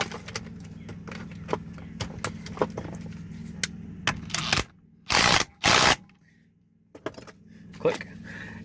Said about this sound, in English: Then we can take that 19mm nut and torque it to